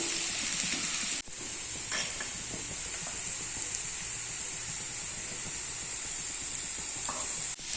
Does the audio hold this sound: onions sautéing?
yes